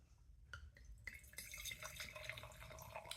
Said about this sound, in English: Let's pour it into the Riedel glass.